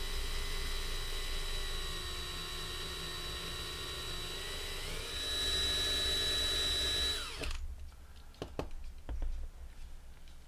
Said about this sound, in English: drill out the rivets at the front and the back